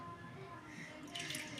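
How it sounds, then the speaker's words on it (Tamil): Water draining and dripping from wet recycled paper pulp held in a sieve, a soft continuous trickle with a brighter splashy burst near the end, close and fairly quiet. "இப்போ நம்ம தட்டும் போது கீழே தண்ணி ஃபுல்லாக வடிஞ்சிரும்."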